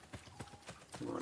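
Horse hooves galloping in Assassin's Creed Brotherhood, a quick regular clip-clop of repeated hoofbeats at moderate level, with a louder burst of game sound at the end.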